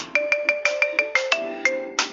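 An iPhone ringtone plays on an Android phone, a quick, bright melody of plucked tones in a steady rhythm, clear and close with no voices.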